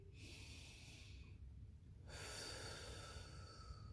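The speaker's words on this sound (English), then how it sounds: "we're going to take our deep breath" A person draws one slow, deep breath: a soft, airy rush of air that swells and grows louder halfway through, faint and close with no other sound.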